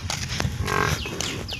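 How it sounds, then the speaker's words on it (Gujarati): Water buffaloes heading home from grazing, with one loud, close, drawn-out low moo, followed by a few faint bird chirps. "બધી ભેંસો આવે છે."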